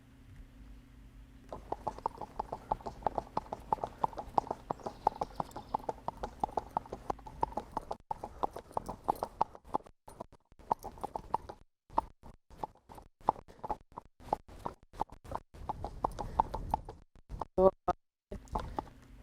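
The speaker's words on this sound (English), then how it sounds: "you're gonna hear how it changes and sounds almost like a trot" A horse's hooves clop in a steady, four-beat foxtrot gait on firm ground, quick and even, shifting slightly in pace partway through toward a trot-like sound.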